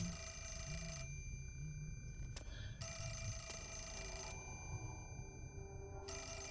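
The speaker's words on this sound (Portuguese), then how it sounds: "Ó, telefone! Tá tocando o telefone." A telephone rings in the horror video game Fatal Frame 4, a faint electronic bell repeating in regular bursts with short pauses between rings.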